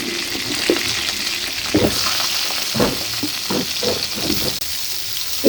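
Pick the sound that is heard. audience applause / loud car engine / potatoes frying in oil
potatoes frying in oil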